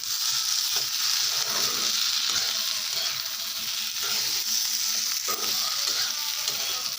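Ginger and garlic paste sizzles and fries steadily in a pan while a utensil stirs it, scraping lightly at irregular moments over the continuous hiss, close by with no talk.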